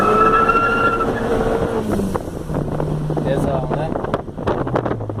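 An Audi A3 1.8 turbo with a nitro setup runs on boost, its engine droning in shifting tones with a whistling whine early on, while someone speaks briefly over it.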